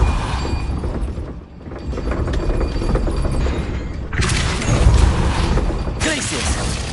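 A Depulso repelling spell goes off in Hogwarts Legacy, a dull booming thump with crashing, shattering debris amid a dense game soundscape, with a voice speaking over it.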